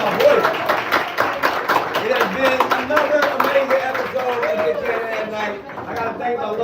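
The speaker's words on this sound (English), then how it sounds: "Clap it up, y'all." A studio audience at a live late-night talk show claps and cheers loudly and steadily, mixed with chatter and a voice calling out over the noise.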